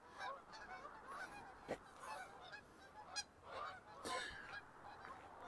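A flock of geese honks overhead in a V formation on a December walk north of Regina Avenue in Regina, giving repeated calls at moderate distance that rise and fall over a steady outdoor background.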